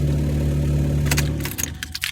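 A 2009 Chevy Malibu with a faulty exhaust manifold runs with a steady low engine drone and rhythmic exhaust pulsing, then cuts off partway, followed by a few jangling key and handling clicks.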